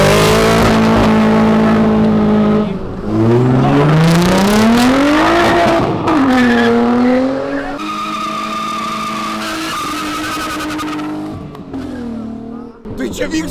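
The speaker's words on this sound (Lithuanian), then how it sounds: "Čia nelegalios lenktynės." Cars in an illegal street race rev and skid, engine notes rising and falling with loud tire squeals close by, with voices talking over the din throughout.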